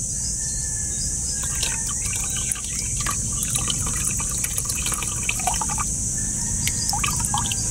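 Water is poured and strained while breeding guppies, with close trickling, splashing and dripping over a steady background of insect chirps, the pouring starting after a brief pause.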